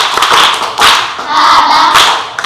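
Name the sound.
audience clapping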